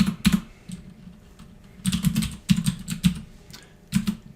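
Keystrokes on a computer keyboard as a command is entered into a MySQL prompt on an Ubuntu server setup, coming in short bursts of clacking taps separated by pauses, close and clear with no talking.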